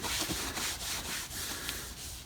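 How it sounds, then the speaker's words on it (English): Plastic parts from a Honda project are hand-sanded with 800 grit sandpaper before priming, a close, steady rasping rub in continuous back-and-forth strokes with slight rhythmic surges, no one speaking. "when you're sanding this stuff, now this is 800 grit"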